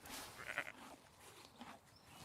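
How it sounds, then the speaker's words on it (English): Sheep bleat a few times in a short burst, moderately close, with a faint voice nearby. "Sheep!"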